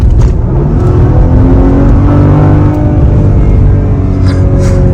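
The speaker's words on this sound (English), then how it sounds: "Once you switch to the sport mode, the exhaust valves open and you get such a more loud exhaust" A loud, close Maserati Levante GT engine revs hard in sport mode with exhaust valves open, its exhaust roaring and rising in pitch as it accelerates, with no talking.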